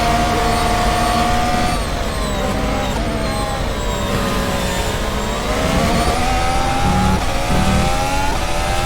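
Race car engine from the rFactor F1 2020 racing game at Melbourne, Australia, a loud continuous whine with gear-shift pitch sweeps and revving that holds steady throughout, with no talk.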